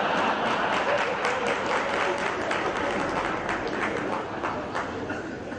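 An audience at a talk bursts into sustained, thick clapping that forms a continuous wash of hand noise, loud and even throughout before easing slightly at the close.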